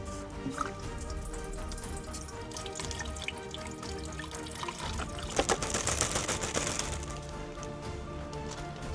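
Water being poured for a pot of coffee, a continuous trickling stream with small drips and splashes, steady throughout and growing a bit busier toward the end.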